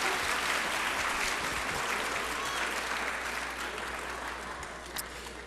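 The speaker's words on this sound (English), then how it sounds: "How about a big round of applause for all of our cum laude, summa cum laude, magna cum laude graduates" Steady, broad applause from a crowd at a high school yearbook ceremony honoring cum laude graduates, holding even for several seconds and tapering slightly toward the end.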